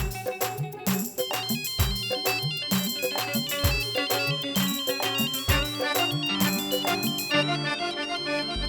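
A loud musical phone ringtone plays a bright, looping melody with a steady beat, continuing throughout without any voices.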